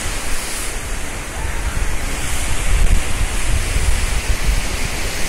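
Surf from the sea at a clean beach on the Konkan coast of India, heard from a clifftop viewpoint above rocks: a steady, broad wash of waves with wind rumble on the microphone, continuous and fairly loud with no talking.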